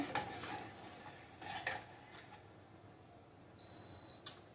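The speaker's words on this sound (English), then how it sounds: "Just going to keep on stirring." Sweet and sour sauce being stirred in a pan for baked crispy chicken, with a spoon scraping and clinking against the pan in a few scattered strokes, fairly faint, plus a brief electronic beep near the end.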